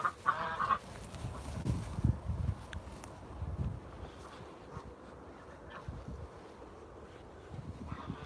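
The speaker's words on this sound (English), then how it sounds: "There's the geese, the two original ducks" Geese honking on a farm at night during evening chores, a few honks standing out near the start over a low wind-like rumble and faint background noise.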